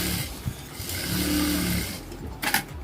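A sewing machine stitching the legs of a patiala salwar gives a steady, close, low whirring run with a slight rhythmic chug, ending in a quieter pause and a brief clatter.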